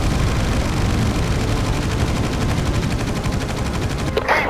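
Sustained rapid machine gun fire in the naval-air combat game Battlestations Pacific, loud and dense with a steady rattling rhythm throughout, close and continuous, ending with a brief sharp impact burst.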